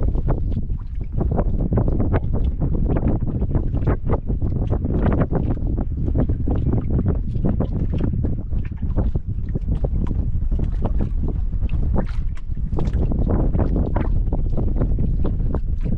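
Strong wind buffets the microphone continuously with loud, rough gusts, masking everything else for the whole stretch.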